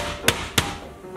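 Two sharp, close thuds come about a quarter second apart as chicken cutlets are pounded flat under a sheet of plastic in a home kitchen. Each strike is separated by a faint room hum.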